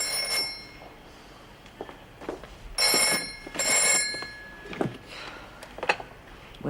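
Old-style telephone bell ringing indoors in short metallic bursts, two strong rings close together with fainter shuffles and knocks around them, no talking.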